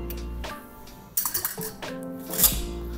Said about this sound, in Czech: Lehce promícháme.